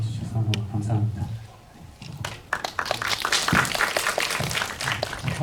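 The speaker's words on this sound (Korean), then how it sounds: "박수 치게 되네요." An audience claps at a post-screening talk for a film in an independent cinema, with a short bit of speech first, a brief dip, then scattered clapping that builds into fuller applause.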